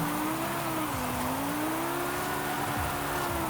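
An Audi R8 supercar drifts in the racing game Forza Horizon 5, its engine holding a steady high whine with slight pitch swells over a continuous rushing roar of tire and road noise.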